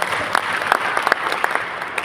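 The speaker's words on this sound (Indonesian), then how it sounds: "Kasih tepuk tangan Pak Umar." Audience applause at an Indonesian Bela Negara training session in Rumpin, Bogor, for a teacher named Pak Umar: a steady wash of moderately loud clapping from a crowd, with sharper individual claps popping out across its full length.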